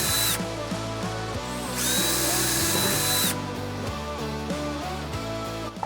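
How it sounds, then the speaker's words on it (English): A power drill with a step bit bores a 14mm hole in a classic VW Beetle. The motor whine is loud and close and shifts pitch as the drill speeds up and slows, with steady grinding through the metal and no talking. "I started off with a small pilot hole, then worked my way up with a step bit to a 14mm hole."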